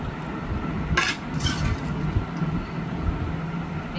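Telugu dosakaya pachadi, a chutney of cucumber pieces and salt, being ground by hand on a stone grinder; steady low scraping and rolling of stone on stone with a few brief sharp clinks, close by.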